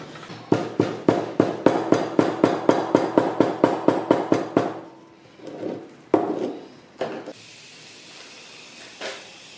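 A sand core box is struck rapidly about twenty times in a steady rhythm, sharp close knocks on packed sand, followed by a few scattered bumps and handling noises after a pause.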